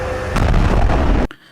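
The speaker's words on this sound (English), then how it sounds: "I want to know what kind of balloon they are using to make this explosion." Explosion of a pile of found material, set off deliberately: a loud, close, sustained roaring blast lasting over a second, then cutting off abruptly into near silence.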